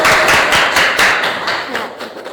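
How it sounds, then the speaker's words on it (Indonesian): Students clap in a classroom during an Islamic history lesson at a madrasah, a dense burst of applause that is loud at first and gradually thins out over about two seconds. "Terima kasih, tepuk tangan."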